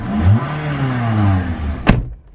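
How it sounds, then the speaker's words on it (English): A supercar's engine idles and revs in park, a steady mid-range engine tone held close and loud, ending with a sharp clattering burst before it drops away. "Listen to the engine."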